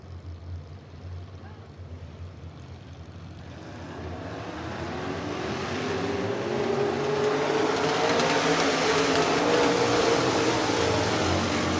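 Sprint car engines roar down the front stretch at a USAC dirt track race, one engine running sour with snapping and crackling; the loud, broadband roar builds steadily as the cars close in.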